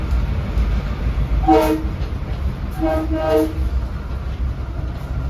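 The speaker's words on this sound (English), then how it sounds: "The M3 blasted its horn when arriving at Cold Spring Harbor on this track on Friday as well." A Long Island Rail Road M3 train rumbles into the station and sounds its horn in a short blast followed by two more close together, loud and harmonic above the steady rolling noise.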